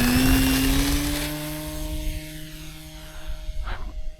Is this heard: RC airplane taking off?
yes